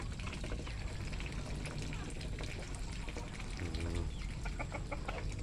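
Farmyard chickens cluck steadily while being fed, with ducks and turkeys nearby, a dense, continuous flock chatter close by with scattered sharper calls throughout.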